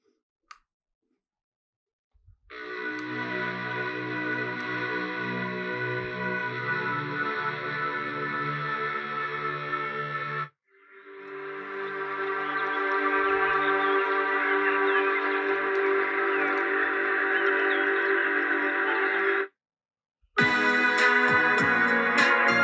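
Synth-heavy Turkish band music from the new wave of the late 2010s, dense layered electronic tones in two long sustained sections split by a short gap, then a third burst starting near the end.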